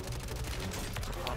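Video game gunfire rattles from a rooftop in rapid bursts of overlapping shots. It is loud and close, with a busy, chaotic feel.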